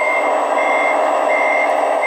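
A white all-metal toy hydraulic front loader with lights and a sound kit emits a loud, steady electronic reversing beep that holds an even tone close to the listener throughout, with no talk over it.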